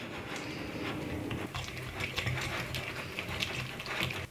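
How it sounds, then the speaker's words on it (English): Butter and honey being whisked together by hand in a bowl, making a rapid, continuous ticking and scraping rattle of the whisk at close range, with no speech. "I'm just gonna whisk together my butter and my honey till it's really combined."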